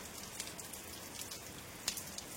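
Rain falls in gusty wind, a soft, steady patter with scattered sharper drop ticks, heard quietly and alone.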